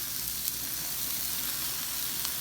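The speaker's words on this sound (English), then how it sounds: "Green peppers and onions on here and we're gonna let these saute" Green peppers and onions sauté in a pan for Philly steak sandwiches, a steady, even sizzle with a few faint pops and no voices.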